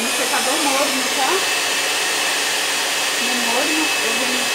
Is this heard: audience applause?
no